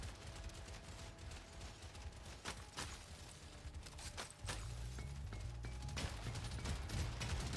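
Automated turrets fire in Deep Rock Galactic Survivor, a video game: rapid, repeated gunshot cracks rattle faintly throughout, over a low droning backdrop that thickens in the second half. No voices.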